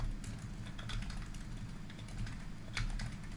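Keys clatter on a computer keyboard as someone types text, a quick, close, fairly quiet run of irregular tapping with no voice over it.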